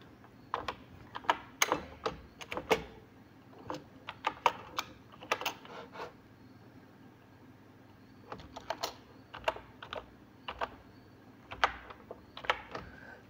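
Typing on a computer keyboard in MS Word, rapid close clicky keystrokes in bursts with short pauses between, over a faint steady background hum.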